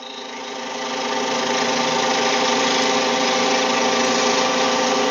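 Wood lathe spinning while a parting tool squares the end of the workpiece, a steady, loud whirring hum that builds over the first second and then holds evenly, with no voices.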